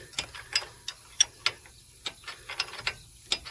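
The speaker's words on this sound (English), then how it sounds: "I'm just sucking it down now with a wrench." Wrench tightening a nut on a CV axle stud of a 2010 Chevy 1500, a series of close, crisp ratcheting clicks in an irregular rhythm.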